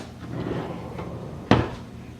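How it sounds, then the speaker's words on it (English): A wooden hutch drawer holding copper silverware slides and shuts with a single sharp knock, close and clear after a soft sliding rumble. "Close the drawer"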